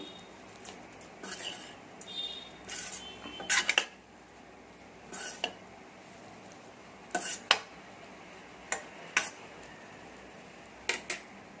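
Curry leaves and mint being stirred into ghee mango pickle rice, a faint soft frying hiss with scattered clinks and scrapes of a spoon against the pan.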